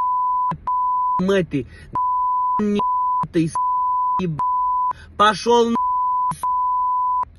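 Steady 1 kHz censor bleeps, loud and close, switch on and off repeatedly, cutting in around short bursts of a voice speaking between them.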